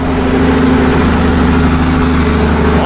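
A Scania truck's engine brake produces a loud, steady low diesel roar with a dense rumbling drone held throughout, close and unbroken.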